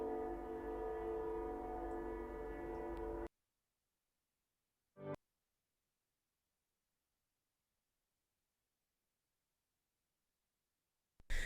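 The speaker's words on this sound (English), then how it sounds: "Did y'all hear the train?" A loud passing train with a tonal horn blares for a few seconds in an advertisement, then cuts off, followed by mostly silence with a brief burst and a final short blast.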